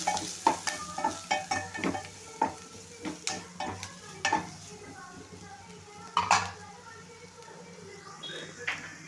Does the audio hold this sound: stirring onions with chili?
yes